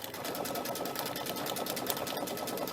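A sewing machine stitches appliqué on stiffened fabric with a 2.5 stitch length. It runs in a steady, rapid, continuous rhythm, close and alone, with no talking.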